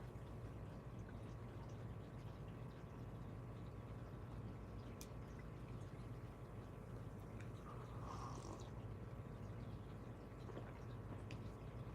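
A large male cat purrs in a steady, low continuous rumble close to the microphone, with no talking over it.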